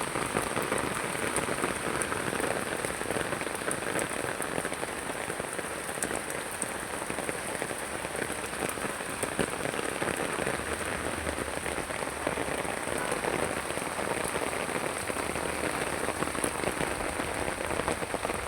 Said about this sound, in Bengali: আমাদের ঢাকায় কিন্তু বৃষ্টি হচ্ছে